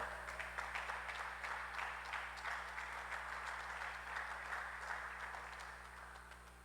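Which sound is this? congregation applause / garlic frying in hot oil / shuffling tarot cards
congregation applause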